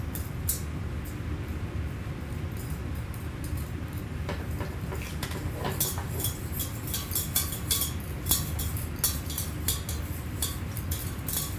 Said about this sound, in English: I'm going to switch over here to the whisk